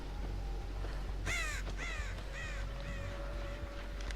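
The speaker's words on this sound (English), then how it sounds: "Just watch out for the crows there." Crows caw in the horror video game Dead by Daylight: four evenly spaced harsh calls over a steady low background hum, fairly faint and with no talking.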